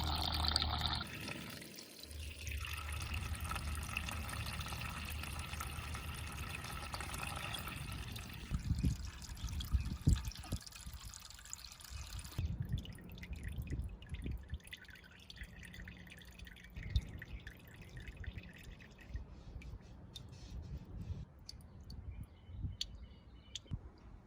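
Coolant drains and drips from the radiator of a 1998–2002 Mercedes-Benz E320 W210, a steady close trickle at first, then thinning to scattered drips and faint splashes, with no talking.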